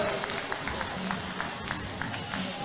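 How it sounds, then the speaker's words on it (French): Spectators at an under-18 freestyle qualifying event applaud two riders, a soft, steady crowd clapping with light cheering that carries on at a distance throughout. "Applaudissements pour Jonas et Joachim."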